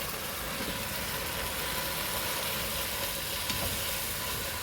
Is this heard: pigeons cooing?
no